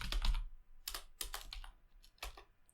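Computer keyboard keys tapped while writing Flutter test code, a few quick bursts of clicks separated by short pauses, close and fairly quiet with no talking.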